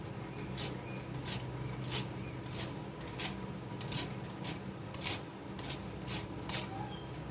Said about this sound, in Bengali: এই চিকেনটাকে আমি এবার গন্ধরাজ লেবু ভেজে গন্ধটা দিয়ে খোসাটাকে একবার করে ঘষে দেবো